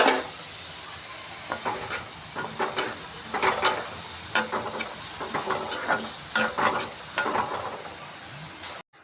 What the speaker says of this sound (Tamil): ஒரு 150 கிராம் உளுந்து இரும்பு வானலில் போட்டுக்கிறோம்